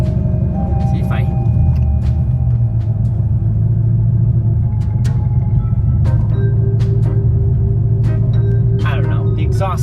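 A C5 Corvette's exhaust rumbles steadily and loud while driving, a deep continuous drone filling the whole stretch with faint voices underneath.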